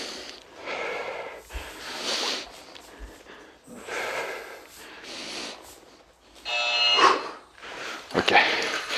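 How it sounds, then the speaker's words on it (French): Forceful, rhythmic breaths during a full-body resistance band workout: about five loud, hissing exhale-and-inhale bursts come up close with short pauses between them. "Je souffle quand je pousse. J'inspire quand je reviens."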